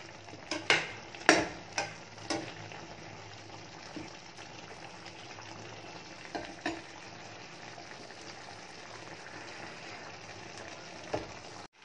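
Chicken curry being stirred and fried in a pan, with a soft steady sizzle under a few sharp scraping knocks of the spoon against the pan, close and fairly quiet.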